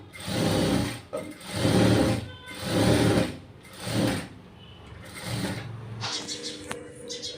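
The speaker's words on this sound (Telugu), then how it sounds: "నేను ఒక స్టిచ్ వేసిన తర్వాత మళ్ళీ డబుల్ స్టిచ్ అయితే వేసేసుకుంటున్నాను." Electric sewing machine running a double row of stitches along a fabric joint, five loud whirring bursts separated by short pauses, then softer clicks and handling of the cloth.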